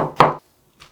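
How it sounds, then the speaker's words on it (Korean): A knife cutting a 250 g onion into fine strips for a Korean side dish with old cucumber. One crisp, close chop hits the board, followed by a faint second tap, with silence in between. "여기다가 양파 1개 250g 나가는데요. 네, 이거를 채를 썰어서 넣어주세요."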